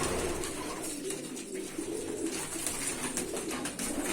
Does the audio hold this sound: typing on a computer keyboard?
no